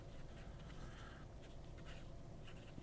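A fountain pen nib scratches across paper while writing, the tines slightly rough on the page; short, faint scratchy strokes come in small bursts over a quiet hum.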